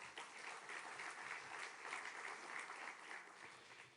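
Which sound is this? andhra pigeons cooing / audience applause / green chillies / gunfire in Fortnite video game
audience applause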